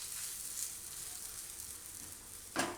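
Food roasts on a lowered gas flame in a pan, giving a soft, steady sizzle heard close but faint, with a short louder crackle near the end and no voices.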